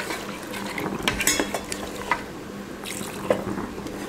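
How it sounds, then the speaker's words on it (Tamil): Water poured into a pot of mutton masala during home cooking, with faint splashing, metallic clinks and stirring scrapes of utensils against the pot, quiet and close with no talking. "இப்போ இதில் தண்ணி சேர்த்துடலாம்."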